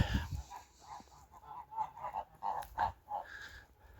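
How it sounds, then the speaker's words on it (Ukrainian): Domestic geese in a snowy yard give short nasal honks and cackles, several calls in an uneven run at close range, with no talk over them. "Лізу до своїх гусиків."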